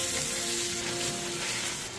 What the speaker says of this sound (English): Add the onions and garlic powder and cook until the onions are translucent.